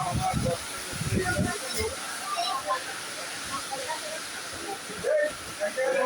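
Heavy rain from a thunderstorm at Bandel Junction railway station makes a steady, dense roaring hiss throughout, with a few voices near the start and briefly later.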